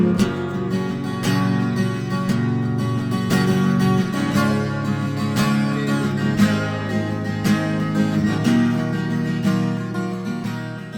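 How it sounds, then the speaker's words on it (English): A guitar played steadily with rich harmonics and clear plucked attacks, sounding full and close, recorded with a pair of ribbon microphones panned hard left and right, with no voices. "You can hear the guitar very well"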